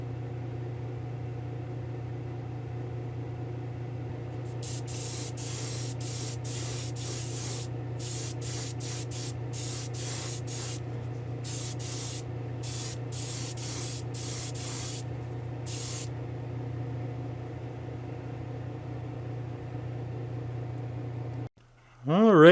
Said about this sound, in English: So I'm going to head back to the spray booth. We'll give this a little spritz.